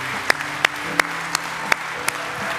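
Full-hand clapping from a church congregation sounds as steady, evenly spaced claps about three per second, moderately loud over a low hum.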